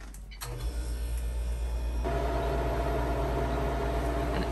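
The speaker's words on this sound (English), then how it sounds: "close the door and press start" A freeze dryer clicks on and its motor starts up, settling into a steady mechanical hum and whir that continues evenly.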